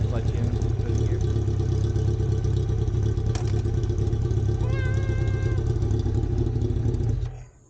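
A 2003 Kawasaki Z1000 motorcycle engine idles steadily close by, its continuous low rumble holding even as it is put in gear, then cutting off abruptly near the end.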